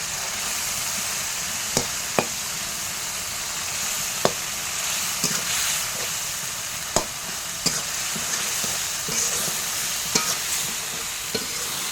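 Tomatoes hit hot oil spiced with dried chillies and a ginger, garlic and pepper paste over a wood-fired stove, giving a steady loud sizzle with sharp scrapes of a stirring utensil every second or two.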